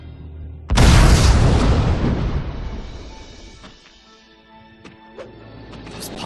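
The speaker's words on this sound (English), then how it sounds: "This pumpkin bomb sure came in handy." A pumpkin bomb explodes in the Spider-Man: Friend or Foe video game, with one loud sudden boom that rolls into a long fading crash and debris rumble, followed by a few faint clicks.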